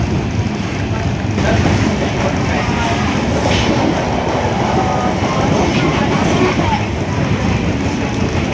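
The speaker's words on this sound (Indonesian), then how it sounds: "ini dia kereta api komuter lain Penataran" A Penataran commuter train on the Surabaya–Malang–Blitar line passes close by, with a steady, loud rumble and rail noise filling the whole stretch without letup.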